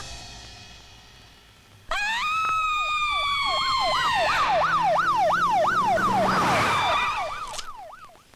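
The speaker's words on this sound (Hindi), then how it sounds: "सर, नीचे एम्बुलेंस आ गई है।" An ambulance siren starts abruptly and wails loudly with a rising and falling two-tone sweep, growing stronger as the emergency vehicle draws near, then cuts off near the end.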